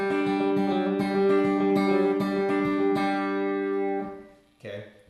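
Guitar played with hybrid picking in a rolling, banjo-style pattern, a run of bright plucked notes ringing together in steady quick succession, loud and close with no talking, then fading out before a final short strum.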